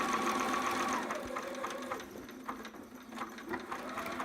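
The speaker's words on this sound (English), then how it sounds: "I'm going to back stitch, forward stitch again, make sure it's good in place" A sewing machine stitches a seam on a Nora sitter romper, its motor running in a steady whirring run for about two seconds before slowing and easing off, followed by softer intermittent mechanical noises, close and fairly quiet.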